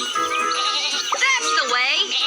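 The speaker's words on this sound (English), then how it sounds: "Oh no! Sheep have wandered onto the tracks." Cartoon sheep in a Thomas & Friends train video game bleat repeatedly, loud and close, in wavering calls that overlap one another against a light jingling background.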